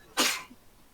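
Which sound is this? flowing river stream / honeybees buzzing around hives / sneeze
sneeze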